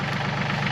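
A Yanmar 235C tractor engine idling close by, a steady, even diesel chug with a low rhythmic knock and no change in pace, heard alone.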